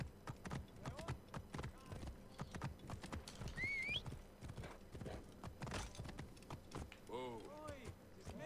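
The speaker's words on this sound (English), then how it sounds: "Apparently the horse can't find its way to the brothel." Horse hooves clip-clop in Assassin's Creed Origins, a steady run of close hoofbeats with a brief whinny partway through, under speech and game sounds.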